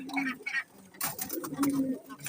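Pigeons kept at home coo softly in short, low murmuring calls close by, mixed with faint rustling and scattered background noise, including one bird suffering from a cold and eye infection.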